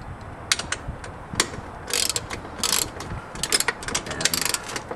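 A 13 millimeter ratchet wrench clicks in quick, uneven bursts with brief pauses between strokes, close and crisp with no talking.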